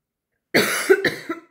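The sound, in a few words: cough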